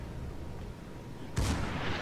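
A heavy battleship gun salvo in the naval video game World of Warships, from the French battleship Richelieu: a sudden loud booming blast after a quiet stretch of low engine rumble, with the roar lingering to the end.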